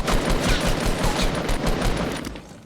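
Rapid automatic gunfire in Fortnite, a dense burst of evenly spaced shots that fades slightly toward the end, loud and close with no talking.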